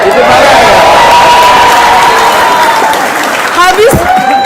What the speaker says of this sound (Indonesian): Yang Tepuk tangan dulu dong, luar biasa.